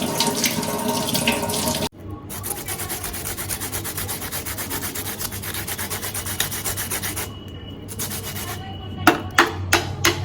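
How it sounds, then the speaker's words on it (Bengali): A cucumber grater rinsed under a running tap, a steady loud rush of water with rubbing, a brief break, then several scraping knocks near the end. "এই যে আমার শশা গ্রেটারটা নিয়ে নিলাম একটু ধুয়ে নিয়ে"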